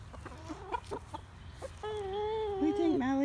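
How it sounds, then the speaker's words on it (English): Backyard chickens clucking close by, a few short clucks followed by a drawn-out tonal squawk rising at the end, with faint background noise and no talking. "So, we're back to the chickens."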